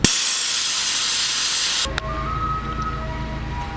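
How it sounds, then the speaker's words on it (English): A VIAIR 444C compressor's air tank being emptied: loud, close, steady hissing of escaping air that cuts off abruptly partway through, followed by quiet room noise with a faint tone. "So I'm going to go empty the tank real quick."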